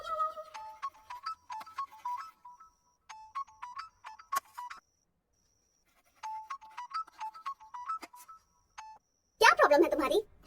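A phone ringtone plays a repeating electronic melody in several bursts with short gaps between them. A louder, noisy sound follows at the end, as though the call is being answered.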